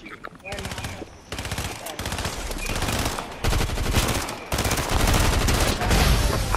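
Dense automatic gunfire from a shooter video game, loud and nearly continuous in rapid bursts that build in intensity, with faint voices underneath.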